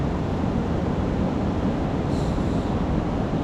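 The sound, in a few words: strong waves on the shore in Zambales, Philippines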